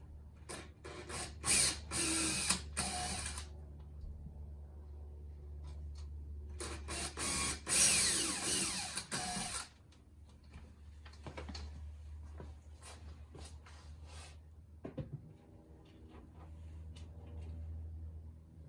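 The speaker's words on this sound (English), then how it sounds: "Drill these 2 holes." A power drill whirs in two loud bursts boring into drywall, followed by quieter scraping and brief rattles, with a low hum underneath.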